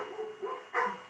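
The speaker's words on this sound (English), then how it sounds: "Sorry if you can hear my dogs barking." Dogs bark in a few short yips and woofs in the background of a remote meeting call, faint and muffled.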